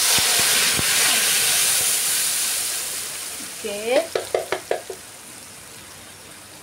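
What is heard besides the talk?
sautéing blended chili paste in frying oil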